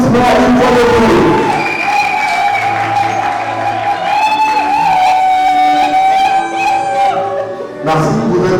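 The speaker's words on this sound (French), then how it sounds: "vous pouvez vous asseoir avec un tonnerre d'applaudissements une fois de plus" An audience at an awards ceremony for comedians claps and cheers, with a dense wash of sustained crowd noise and tonal ringing under it, continuing without a break.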